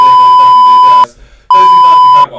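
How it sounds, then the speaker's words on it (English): Censor beeps blot out swear words in a podcast: two long, loud steady electronic tones separated by a short gap, with speech partly heard around them. "this is where it's just going to sound like a whole bunch of beeps right there"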